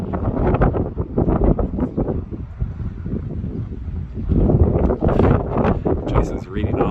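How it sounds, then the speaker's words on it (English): Gusty wind in Cardiff, Wales rumbles and thumps against the microphone while a person talks through it, the roar rising and falling in bursts. "It's a windy day here."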